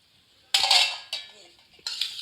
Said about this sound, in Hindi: ये देखिए अब मैं डालूंगी इसमें अपने आलू।